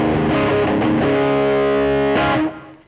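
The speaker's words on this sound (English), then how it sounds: "you can get that good chunky, you know, chugging rhythm thing" Electric guitar through a Boss SD-1 Super Overdrive pedal chugs out a thick, crunchy rhythm, with sustained overdriven chords and a brief accent before the sound cuts off, loud and close without talk.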